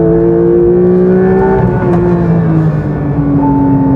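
A Porsche GT3 on Cup 2R tyres revs hard on a race track, its engine note a loud, continuous high-pitched howl with steady harmonics that shift slightly as revs hold near the top of the range.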